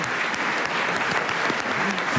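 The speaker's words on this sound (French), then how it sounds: "Célia Pelluet, qu'on peut encore applaudir bien fort." Steady applause from an audience, dense clapping throughout with no pauses, fairly loud and close.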